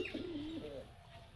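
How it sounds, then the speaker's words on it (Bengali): Pigeons, including a fantail breed, coo on a rooftop, a low warbling call close by, with faint chirps and no talk. "এই যে আমাদের কবুতর"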